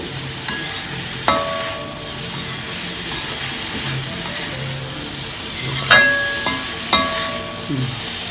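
Carrot fry with grated coconut being stirred in a pan, a steady sizzle under the scrape of a spatula, with several sharp metallic clinks against the pan.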